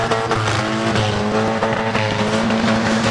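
Stock cars towing caravans race on an oval at Arena Essex, with loud, continuous engine roar and tyre noise filling the whole stretch, close and dense with no talk.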